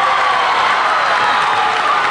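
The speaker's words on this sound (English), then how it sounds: "This crowd is on fire right now." Crowd cheering and applauding in a gym during a women's college volleyball match, a steady dense roar of clapping and shouting with no breaks.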